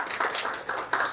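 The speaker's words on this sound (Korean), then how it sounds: "큰 박수로 맞이해주시기 바랍니다." Audience at a lecture applauding to welcome a professor, a modest patter of clapping from a small room, fairly close and even, with a few sharper claps standing out.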